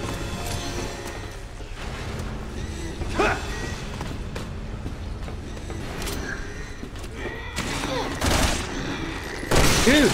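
Gunshots in Resident Evil 6, sharp separate blasts spaced across the span over game noise and creaks, growing louder and closer near the end.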